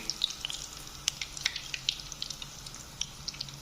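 Chicken leg tikka pieces frying in hot oil, a quiet bed of sizzle with scattered sharp pops and crackles spaced irregularly, close and unaccompanied by talk.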